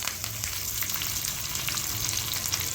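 Curry leaves sizzle and crackle in hot oil while tempering for arhar dal, a steady loud frying hiss with small pops throughout.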